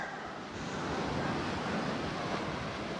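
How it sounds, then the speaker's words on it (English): Sea waves washing onto the shore at Koh Jum island in Thailand, a steady broadband rush of surf mixed with wind buffeting the microphone, continuous and fairly close. "And this is the sea."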